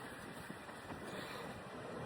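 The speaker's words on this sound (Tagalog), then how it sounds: "Sobrang lakas ng hangin." Strong, cold wind blows by the sea in Zadar's Old Town, Croatia, a steady, even rush buffeting the microphone, with no talking.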